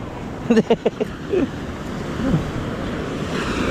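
Loud rushing surf rolls onto the shore under wind noise, with a voice calling out briefly near the start.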